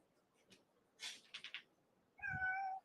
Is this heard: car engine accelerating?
no